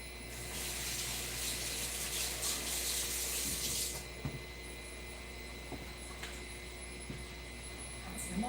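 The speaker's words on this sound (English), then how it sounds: "Add some water." Water pours steadily into a cooking pot while tofu skin rolls are being made, a loud, close hiss lasting about four seconds before stopping, leaving faint kitchen hum.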